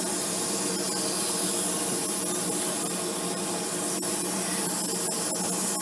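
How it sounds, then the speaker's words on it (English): Pet shower sprayer rinsing a puppy in a kitchen sink, a continuous close, loud hiss of spraying water with small splashes and clatters, no talking. "I use this sprayer."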